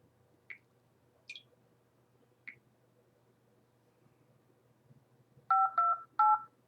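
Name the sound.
telephone number being dialed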